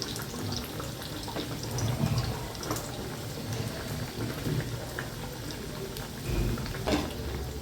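Sprouted moong dal vadas deep-frying in hot oil: a steady, dense bubbling hiss with a few louder surges, heard alone without speech.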